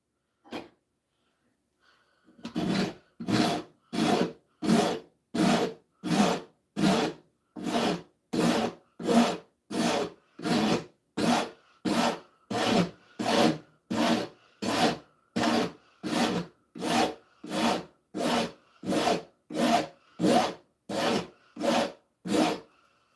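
A hand file chamfers the edge of an axe held in a vise, sounding as a steady series of about thirty rasping strokes, each a loud close scrape followed by a short pause, with no talking over it.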